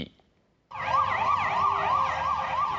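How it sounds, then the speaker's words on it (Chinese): A police car siren wails at a Brussels street shooting scene, starting abruptly after a brief quiet moment and then cycling steadily up and down, loud and close over a low rumble of traffic. "警车开入枪击现场，大批警员在场戒备"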